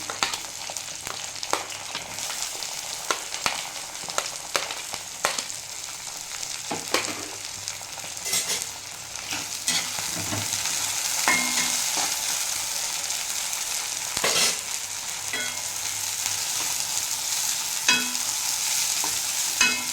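Sliced onions frying in hot oil for chicken biryani, a steady sizzle broken by repeated scraping stirs of a spoon against the pan, close and continuous with no talking.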